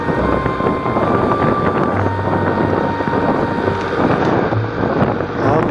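A motorbike cruising along a road from Curtorim to Santimoll Raia in South Goa, its steady engine hum buried under constant heavy wind buffeting the microphone throughout.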